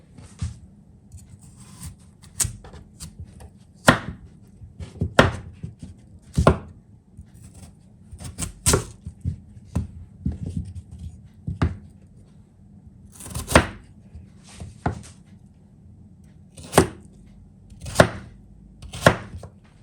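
A knife chopping potatoes into large cubes on a board, sharp separate thuds in an irregular rhythm, close and clear over quiet background.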